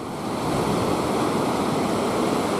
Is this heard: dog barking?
no